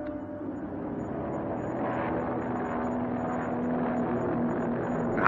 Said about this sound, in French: l'avion régulier Tanger-Copenhague décollait